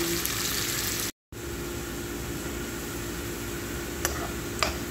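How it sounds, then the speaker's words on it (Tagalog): Onion and ginger sautéing in a pan for a chicken and saluyot vegetable dish, giving a steady close sizzle and hiss throughout, with a brief dropout near the start and a couple of faint clinks near the end. "Igisa lang natin."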